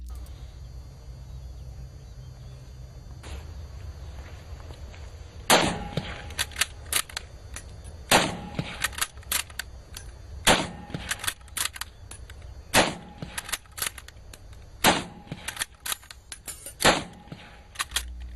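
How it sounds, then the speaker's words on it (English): A Carcano rifle is fired six times in rapid succession. After a quiet start, loud sharp cracks come roughly two seconds apart, each trailed by short echoing rattles. "An entire clip of 6 bullets is fired in 12 seconds without time for aiming in between."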